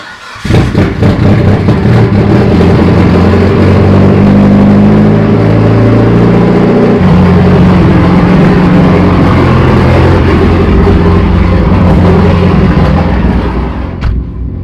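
A Mitsubishi Evo 8 engine runs in a garage at an apartment complex, loud and close, with a steady, rough, throaty drone and some revving that carries on for about fourteen seconds.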